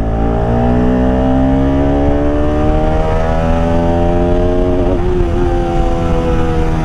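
A Bajaj Pulsar RS 200 motorcycle accelerates hard, its engine pitch climbing steadily through the gears with a brief shift dip, loud and close, no voices over it.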